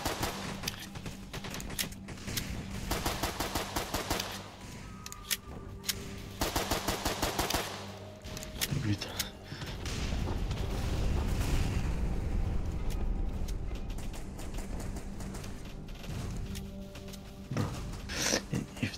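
Anti-air guns fire in the Roblox game Dead Ahead: rapid machine-gun bursts rattle in repeated volleys, with a stretch of heavy rumbling fire in the middle.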